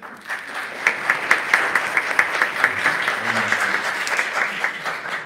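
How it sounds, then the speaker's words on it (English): Applause from a church congregation at a Saturday evening Mass for couples married in February, a steady patter of many hands clapping at moderate distance with faint murmuring underneath. "Please clap for them."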